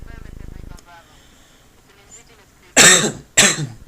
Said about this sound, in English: you guys got the coughs.